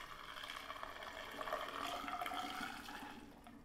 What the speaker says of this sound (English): I wanted to be able to squeeze it so I could narrow the stream as I'm pouring it out